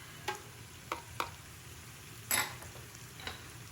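Garlic and rosemary are tossed into a hot pan for oyster stew, giving a low steady sizzle with a few faint scraping stirs and clinks of the utensil, no talking.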